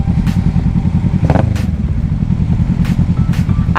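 A 2018 Kawasaki Z650 motorcycle engine thrums close and loud while riding, a steady pulsing twin-cylinder drone with a few brief raspy crackles over the continuous rumble.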